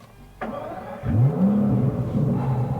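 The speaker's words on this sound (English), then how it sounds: "I'm going to push the engine start stop button" An Aston Martin DBS Superleggera engine starting up: a sharp click, then the starter catches and the engine flares into a loud rising rev before settling into a rumbling idle, close and alone.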